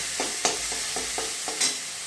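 Spinach rice masala is sautéed in a pan, a spatula scraping in about half a dozen rhythmic strokes over a steady sizzle.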